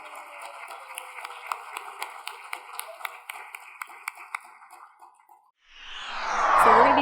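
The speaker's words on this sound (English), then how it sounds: "I was hoping we could give a round of applause to the John Denemy Jazz Trio" An audience at a Hall of Fame awards evening applauds a jazz trio with a thin, scattered run of claps that fades out, followed by a brief loud rush of noise.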